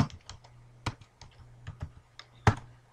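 Keys clack on a computer keyboard as a command is typed on an Ubuntu server, an uneven run of close, crisp taps with a couple of harder strikes and no talking.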